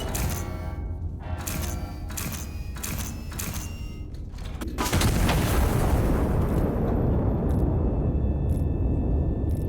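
Heavy artillery-style gun in the video game Iron Nest fires in loud booming blasts, a series of sharp reports followed by a sustained roaring rumble, with no talk.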